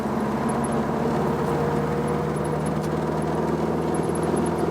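A classic air-cooled VW Beetle engine driving in third gear at around 70 km/h, a steady droning hum with road noise filling the cabin, constant and fairly loud with no talk.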